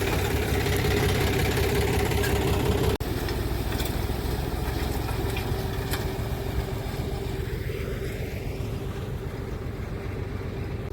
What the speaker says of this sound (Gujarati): લે જો ડુંગળી વાવશે ટ્રેક્ટર.